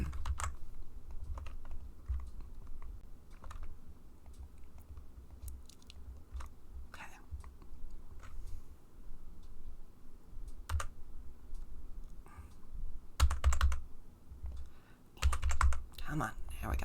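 Clicky keys on a worn computer keyboard with a sticky control key tap in short irregular bursts, close and fairly quiet, with occasional heavier clacks near the end.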